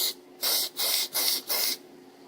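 Four short bursts of spray paint hiss onto a plastic model tank, each lasting about a quarter to half a second with brief pauses between, close and steady.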